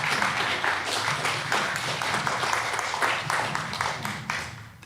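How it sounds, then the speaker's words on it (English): An audience applauds a panelist named Tom Middleton at a stress and anxiety panel, giving steady, dense clapping that fills the room for about five seconds without a break. "So please give an applause for Tom."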